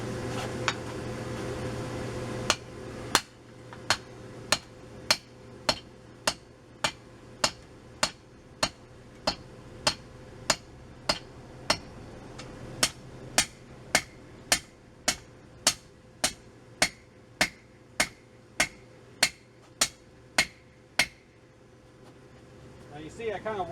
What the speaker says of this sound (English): And then I start hammering away at this end here, trying to draw it that way.